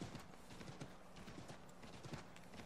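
Horse hooves clip-clop at a steady walking rhythm in Assassin's Creed 3, a slow horse plodding along. The hoofbeats are faint and even, with no talk over them.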